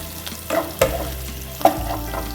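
Onion fries in oil left over from frying ayre fish, with a steady close sizzle broken by three sharp spatula scrapes and stirs against the pan.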